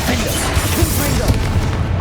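A Confringo spell explosion in the Hogwarts Legacy video game, heard as a loud, dense blast of booming crashes and bursts filling the moment without any talk.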